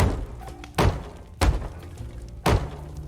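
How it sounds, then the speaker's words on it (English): Banging in the video game Tales of Monkey Island: three loud, heavy thuds spaced about a second apart, each with a short ringing decay, over quiet background. "Do you hear that banging?"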